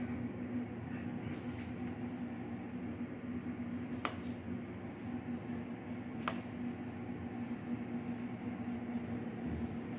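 Stealth Hunter e-bike electric motor running under light throttle, giving a steady, close droning whine with a constant tone throughout and two brief sharp clicks, with no talking.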